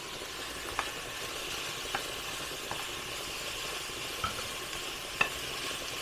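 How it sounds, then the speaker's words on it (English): Onions sizzle quietly in a pan for a home-cooked family meal. A soft, steady frying hiss runs throughout, broken by a few sharp clicks and taps of a utensil against the pan. "I love the smell of onions cooking."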